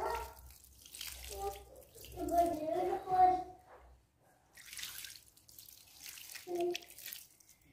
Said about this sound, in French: je vais ajouter de l'eau froide, à peu près 500 ml